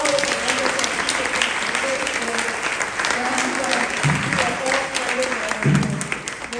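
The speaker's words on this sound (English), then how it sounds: "I would just like to give a clap again for all of the wonderful" Steady, dense applause from a conference audience at a caregiver event, sustained clapping throughout, full and close, with a couple of brief low thumps near the end.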